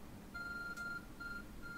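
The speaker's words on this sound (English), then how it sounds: "There's a glowing beeping object over there." An electronic phone beep in Pokémon Legends Arceus, a faint steady tone with a short break, over quiet game ambience.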